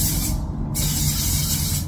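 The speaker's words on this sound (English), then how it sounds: "now we're going to use the Headstrong Volume Hair Spray with bamboo and Australian cockadoo plum." Headstrong Volume Hair Spray with bamboo and Australian cockadoo plum sprayed from a can: a loud, steady, close hiss that fills the whole stretch, briefly thinning between two bursts, with no talking.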